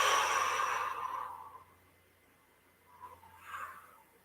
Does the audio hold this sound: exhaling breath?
yes